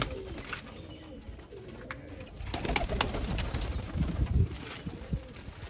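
Pigeons coo softly and repeatedly among a flock kept by a breeder, low rolling calls close by, with rustling and brief wing flutters mixed in.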